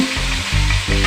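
Brinjal chutney tipped into a hot pan with curry leaves sizzles and fries loudly, with a couple of stirring scrapes breaking the steady crackle; no voices.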